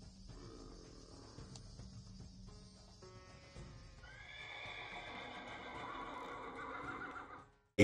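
Horses whinny and snort over the clatter of hooves and the rumble of chariots, a layered crowd of animals building in loudness before cutting off abruptly, with no talking over it.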